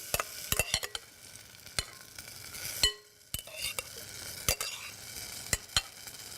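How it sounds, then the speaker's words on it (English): A utensil stirs strawberries in a saucepan, with repeated scraping clinks against the pan over a soft steady sizzle, close and fairly quiet. "So we're just gonna keep stirring it."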